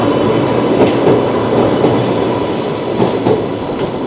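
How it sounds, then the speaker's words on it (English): An Island Line train made from former London Underground stock pulls away from Ryde Pier Head, a loud steady rumble of wheels on rails with rhythmic clicks and clatter, nearby and alone. "Here is one of the new Island Line trains, ex-London Underground I believe."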